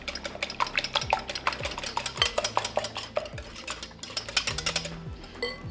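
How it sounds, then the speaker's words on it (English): Eggs beaten with a whisk or hand mixer in a bowl, rapid rhythmic clicking and tapping strokes of metal against the bowl, close and fairly quiet, with a few brief pauses between bursts. "Using a whisk or a hand mixer, you just want to beat them until the yolks have broken up"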